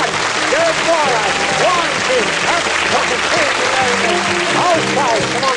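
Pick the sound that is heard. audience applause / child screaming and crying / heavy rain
audience applause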